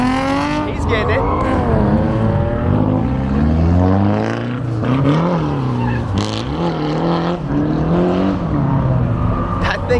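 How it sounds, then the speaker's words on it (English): A car drifts at a Pocono Raceway drift event, its engine revving and wavering loudly and continuously with tire noise, while people talk nearby over the sound. "That thing looks so good drifting, bro."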